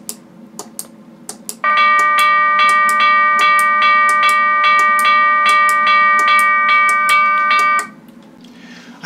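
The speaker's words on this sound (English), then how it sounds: "you should have your lights flash on the crossing signal and the bell" A modified American Flyer model railroad crossing signal plays a bell sound from an MP3 soundboard. A loud, ringing electronic chime lasts about six seconds, framed by quick light ticking clicks before and after it.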